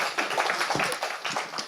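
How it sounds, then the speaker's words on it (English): Audience applause greets Teddy as he is invited onto a stage at a citizenship and diversity event, a dense, steady patter of many hands clapping close and full for nearly two seconds with no talk over it. "If you would give a round of applause to Teddy."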